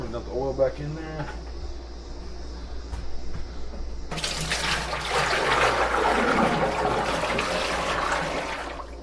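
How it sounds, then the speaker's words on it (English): Cooking oil is dumped back into a fryer in a BBQ food truck: after a quiet stretch with someone talking, a sudden broad gushing pour starts and keeps rushing steadily for several seconds. "Alright, we're going to dump the oil back in there"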